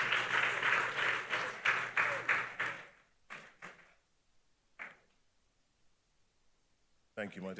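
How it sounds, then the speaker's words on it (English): Audience applause at the First Caribbean Global Awards 2023 for an award winner, a few seconds of rhythmic clapping that quickly thins to scattered claps, then silence before talking resumes. "Please give her a big round of applause."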